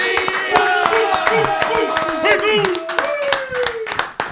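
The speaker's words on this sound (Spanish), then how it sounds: "Recibamos con un fuerte aplauso a Christopher Pitufo." Studio applause greets a guest arriving on a podcast set: sharp, steady clapping from a small audience fills the stretch, with voices and tonal sounds running underneath throughout.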